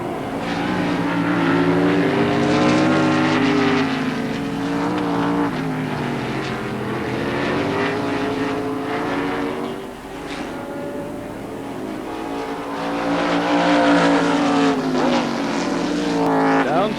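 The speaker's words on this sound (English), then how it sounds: "Taken in third gear in a Formula 5000 car, second in the Formula 1 cars with the 3-litre but very high revving engines." Formula 5000 race cars roar past at Oran Park in a 1979 Rothmans International round, their engines droning loudly with pitch sweeping up and down as they accelerate and brake, the sound steady for the whole stretch.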